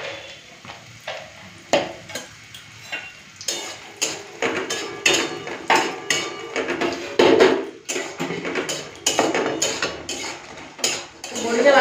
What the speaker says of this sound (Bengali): তেলটা গরম হয়ে গেছে, আগে বড়ি দুটো ভেজে তুলে নিই